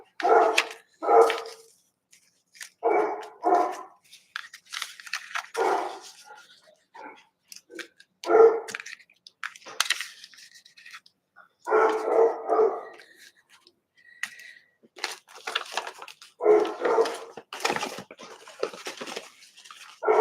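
A dog barks repeatedly indoors, in scattered bursts of sharp yips and woofs with short gaps between, fairly close and loud over several seconds.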